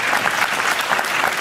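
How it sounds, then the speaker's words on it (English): A conference audience gives warm applause, a thick, even wash of many hands clapping at once that holds steady and fairly loud for the whole stretch. "May I have a warm applause for Raquel Xalabarder"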